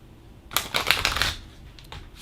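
Tarot cards being shuffled close by in a single short riffle burst of crisp papery clicks lasting about a second, then fading to quiet room tone, with no talking.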